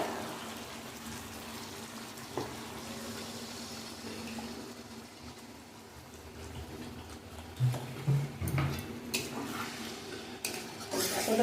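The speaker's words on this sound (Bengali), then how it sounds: "দেখুন ঝোল কতগুলো চটপটা করছে" Pork curry gravy with potatoes bubbling in a pan: a low, steady simmering hiss with a few sharper pops and clinks of a utensil against the pan toward the end, close by and without talk.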